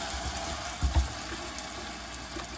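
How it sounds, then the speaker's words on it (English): Water running from a tap into a sink while cleaning with a scrub brush and soap, a steady, even rush over a couple of seconds with a brief louder splash near the middle, heard alone. "run some water"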